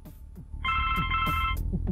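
Telephone ringing in the point-and-click adventure game The Blackwell Legacy, a single electronic bell ring starting abruptly and holding for about a second, with faint background sounds.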